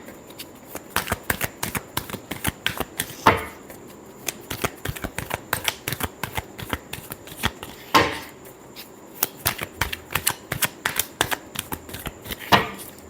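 Tarot cards are shuffled by hand in a quick run of crisp, riffling snaps and slaps, each burst ending in a louder tap, close and alone without talk.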